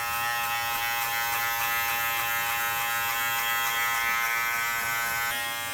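Electric hair clippers fitted with a 3 guard, lever open, cut hair during a mid fade, producing a steady close-up buzz that hums on without a break.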